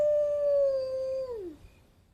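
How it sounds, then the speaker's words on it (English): A wolf howls once, a single long steady tone that holds and then slides downward at the end before fading into quiet; loud and clear, with no other sounds. "It's a wolf."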